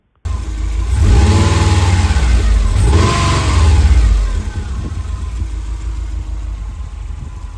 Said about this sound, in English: Let's have a little listen to this Subaru motor.